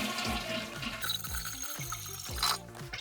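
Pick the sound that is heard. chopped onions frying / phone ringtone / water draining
water draining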